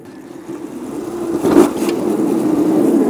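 A car passes along a road beside a park, its engine swelling to a peak midway and then settling into a steady nearby drone.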